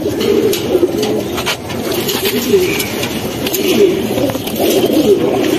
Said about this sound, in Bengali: ভেরি বিগ সাইজের একটি নর কবুতর এবং মাদিরা হচ্ছে পিছনে।